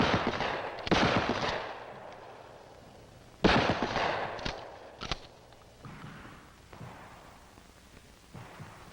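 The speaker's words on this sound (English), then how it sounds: "Offhand aimed fire is best suited to longer ranges." Shotgun blasts during offhand aimed-fire training, several loud sharp reports with echoing tails, a burst of shots around the start and another cluster a few seconds later, no talking.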